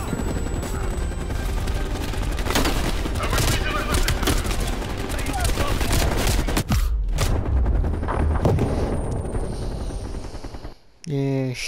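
Gunfire in Call of Duty Black Ops Cold War comes as dense, loud, overlapping bursts of automatic fire and booms that thin out toward the end, where a voice speaks briefly.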